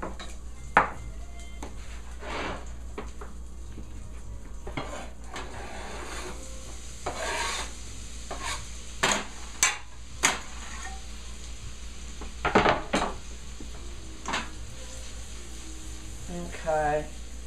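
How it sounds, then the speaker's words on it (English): Onions sautéing in melted butter in a pan over medium-low heat, a soft steady sizzle with occasional scraping stirs and utensil clinks, heard beneath a person talking. "So this butter is melting very nicely. I'm going to put the onions in there right now."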